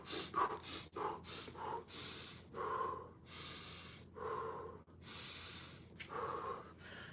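Repeated quick breaths, in through the nose and forced out through the mouth, during a posture, mobility and cardio class, with sharp rhythmic huffs and gasps about one per second, close and fairly quiet.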